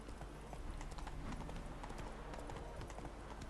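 Roach the horse's hooves in Witcher 3, a steady rhythmic clip-clop of a trotting horse, fairly quiet and continuous for the whole stretch.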